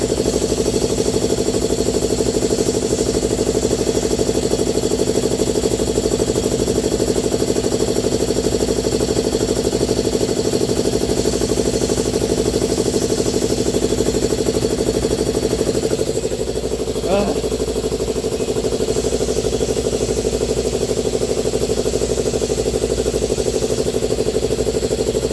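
An air compressor for a 3/8 air line kit runs steadily as it builds pressure, its loud, continuous motor drone holding even throughout with a brief rattle near the middle.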